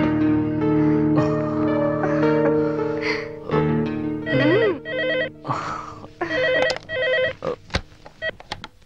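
A telephone ringing in a Telugu movie scene: melodic ringtone phrases repeat over loud background music, with a few sharp hits, fairly loud and close.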